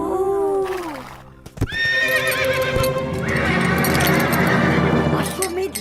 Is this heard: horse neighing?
yes